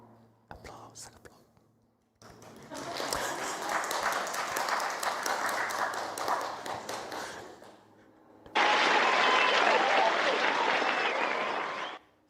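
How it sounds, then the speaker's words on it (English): Listeners at a Buddhist Dharma talk on the Avatamsaka Sutra break into applause, quiet whispers and taps first, then a long burst of clapping, a short pause, and a second louder wave. "Applause."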